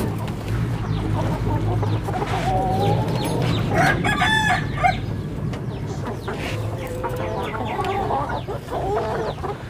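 Free-range chickens on an integrated farm, a rooster crowing clearly midway and hens clucking repeatedly over steady farmyard background noise, nearby and fairly loud.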